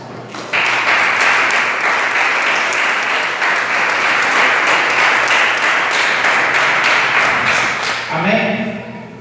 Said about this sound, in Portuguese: Podeis assentar e exaltar o Rei Jesus com as palmas